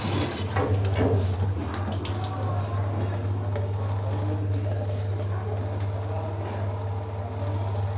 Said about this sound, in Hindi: ये देख सकते हैं पानी प्योर आना स्टार्ट हो चुका है